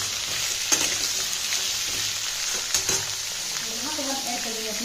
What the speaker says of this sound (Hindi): अच्छे से भून कर लेंगे सभी को।